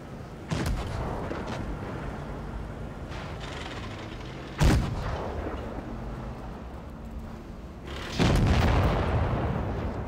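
Tank cannon fire in World of Tanks Blitz, a T-22 medium against a Chieftain: three heavy booming shots spaced several seconds apart over a steady engine and battle rumble, loud and close.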